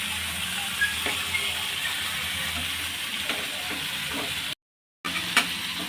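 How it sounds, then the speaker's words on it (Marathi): Garlic roasts in oil in a pan beside tomatoes for a village-style thecha, giving a steady, soft, continuous sizzle with faint crackles. The sound cuts out for a moment near the end, then resumes. "भरपूर असा लसूण टाकायचा तो सुद्धा याच तेलामध्ये भाजून घ्यायचा आहे"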